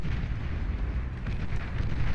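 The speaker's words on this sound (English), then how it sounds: "Oppressors firing away here with their long-range plasma cannons" Long-range plasma cannons fire in a Beyond All Reason battle, a dense continuous rumble of overlapping booms and blasts with no gaps, loud and close.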